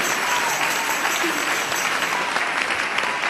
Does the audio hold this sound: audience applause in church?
yes